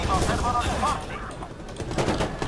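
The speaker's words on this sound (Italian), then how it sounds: "che cacchio è che mi sta sparando con tutto quello che ha?" Rapid gunfire aimed at the player in the video game Watch Dogs, set in Chicago: dense bursts of automatic shots rattle continuously, with a voice talking partly over them.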